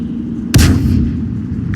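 A single heavy gunshot-like boom in a live oaks Juggernaut shooter game, loud and sharp with a brief ringing tail over a low steady game drone, followed by a faint click near the end.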